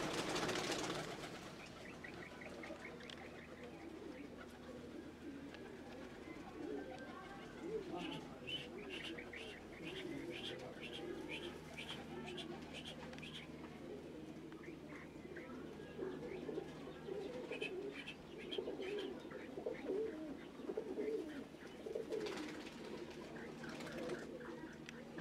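A caged pair of hybrid quail call with repeated chirps and soft coo-like notes, moderately near, over a low background with occasional human voice.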